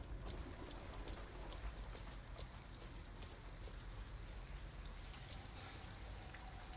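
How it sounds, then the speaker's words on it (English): Steady rain falls outside in the Detroit: Become Human video game, with a constant hiss and patter of drops on surfaces throughout and no voices. "At least we'd be out of the rain."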